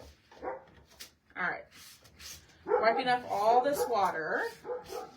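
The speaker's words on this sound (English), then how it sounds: "That's my dog, obviously. My Australian Shepherd." An Australian Shepherd dog barks and whimpers indoors, its short sharp barks and whines mixed with someone talking nearby.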